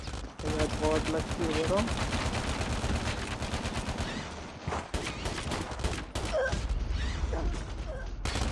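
Rapid hip-fire bursts from an HG 40 submachine gun in a Call of Duty Mobile 1v1 match, dense loud rattling shots throughout with someone talking excitedly over the gunfire.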